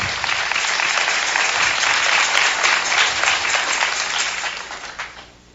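A church audience at a Pentecost service in Jerusalem applauds in a thick, sustained roar of clapping that holds level for several seconds, then fades away at the end.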